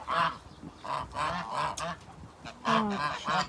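Domestic geese honk repeatedly at close range, a run of loud nasal calls in uneven bursts, several birds overlapping.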